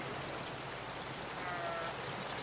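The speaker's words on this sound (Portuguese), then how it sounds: "a chuva vai regar aqui, galera" Steady rain in the video game Raft falls on a raft's planted crops, a dense even hiss of droplets with no breaks, fairly soft and with nothing else over it.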